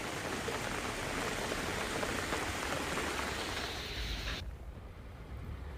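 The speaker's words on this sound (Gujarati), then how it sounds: "ધોધમાર વરસાદ પડ્યો" Heavy monsoon rain pouring down steadily in Bhavnagar, Gujarat, a dense, loud, continuous wash of downpour that dulls and softens slightly near the end.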